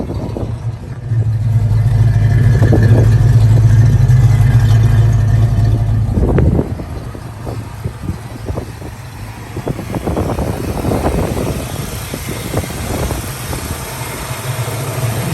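A restored 1966 Ford Mustang's engine runs loud and close, holding a strong steady rumble before dropping back, then idling with uneven bursts as the throttle is blipped.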